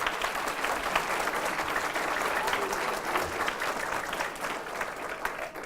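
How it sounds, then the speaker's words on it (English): Sustained audience applause at a city news conference in Albuquerque, many hands clapping steadily and fairly loud for several seconds, tapering slightly toward the end. "Give her a round of applause."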